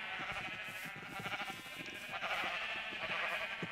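Minecraft sheep bleat faintly while being sheared, with repeated wavering bleats overlapping against a steady, busy game background.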